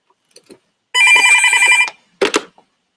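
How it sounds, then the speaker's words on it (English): A telephone believed to be unplugged suddenly rings: one loud, close burst of bell ringing lasting about a second, then a few brief knocks and clicks in an otherwise quiet room. "That phone never rings."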